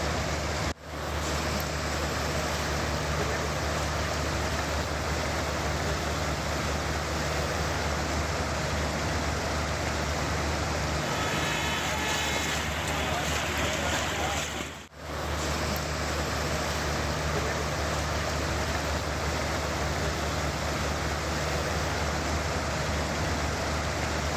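Heavy rain pours down in Rishikesh, Uttarakhand, a steady, dense hiss of downpour that holds loud and unbroken throughout, with two brief dips in the wash.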